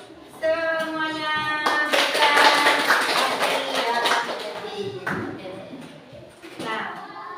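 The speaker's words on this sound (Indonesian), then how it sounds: "Oke, tepuk tangan untuk semuanya." Children in a classroom clap together, a busy patter of many small hands that swells and then tapers, with an adult voice speaking over it in a sing-song tone.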